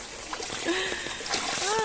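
Rainwater splashing outdoors during the first rain after a hot, dry spell, a steady noisy wash of water heard with a voice speaking and short tonal chirps over it.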